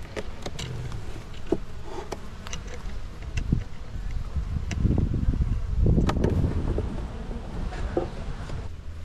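A swarm of honey bees drones in a dense, continuous buzz around a beekeeping site, with scattered louder passes of individual bees close by and brief soft rustling, swelling slightly toward the middle.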